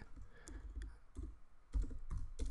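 Someone types on a computer keyboard while writing JavaScript DOM code, a few irregular bursts of quiet key clicks close up, with short pauses between keystrokes and no voice.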